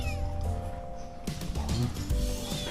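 A pet cat gives a short meow, then a couple of quieter ones, close by over steady background hum and handling noise.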